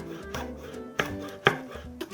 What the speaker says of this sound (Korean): 홍고추도 같은 크기로 썰어주도록 하겠습니다